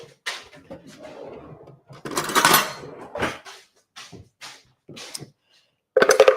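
Metal cutlery clatters and clinks against dishes in a home kitchen while a fresh spoon is fetched, with a few sharp nearby rattles in bursts separated by short pauses.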